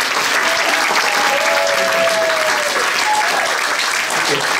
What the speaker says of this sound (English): I want to give them a wonderful applause.